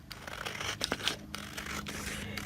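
Scissors cut through a page from an old book, with a few quiet snips and paper rustles close by over low background noise.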